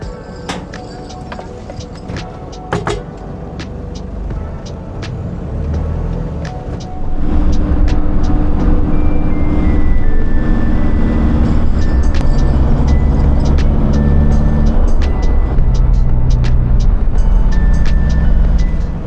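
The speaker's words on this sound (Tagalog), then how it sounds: "Ayun, traffic talaga oh." Dense road traffic of cars and trucks grinds past a van, a steady loud rumble of engines that swells after the first few seconds and holds, with a few faint tonal whines over the roar.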